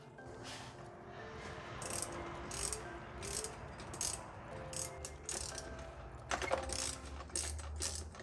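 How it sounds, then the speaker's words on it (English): Ratcheting clicks and mechanical rattles come close up as a threadlocked bolt is tightened on the driveline of a Redcat Rampage XT RC truck, in short irregular bursts with no talking. "Now I'm gonna try to carefully cinch this thing down."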